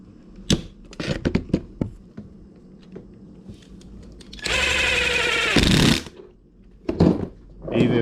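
A power driver spins a screw into a wing mount on an Arrma RC car, heard as one loud, steady whirring burst of about a second and a half, close up, with scattered handling knocks and taps around it.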